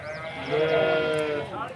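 Goats bleating at a busy livestock market in Talagang, several overlapping calls rising and falling over steady crowd murmur and nearby talk.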